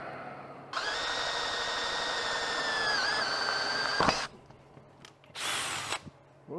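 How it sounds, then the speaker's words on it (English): A power drill bores through a stripped-out Dana 44 axle hub with a steady, loud whine lasting over three seconds, stops abruptly, then gives a brief second burst. "they're drilling through pretty easy"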